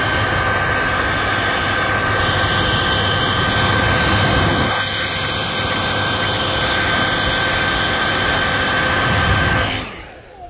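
A heat gun blows steadily and loudly for about ten seconds while warming a sticker on a car body panel so it can be peeled off, with the sound cutting off abruptly at the end.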